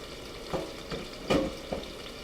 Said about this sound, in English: we're going to let those sear on one side, then we'll flip them